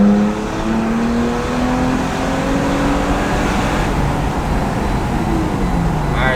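A 2016+ Toyota Tacoma TRD fitted with an MBRP exhaust rolls by with its windows down, the engine note rising steadily as it accelerates and passes fairly close, loud and continuous with no talking.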